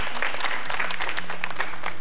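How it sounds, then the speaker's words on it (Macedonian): An audience applauds after a school presentation, dense steady clapping from many hands filling the whole stretch, close and moderately loud, no talk over it. "Така е, аплауз."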